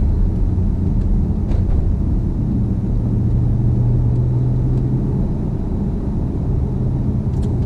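A 2016 Dodge Charger R/T Scat Pack accelerating out of a corner, a steady, loud low engine rumble with a rising drone held throughout, heard from inside the car with no talking.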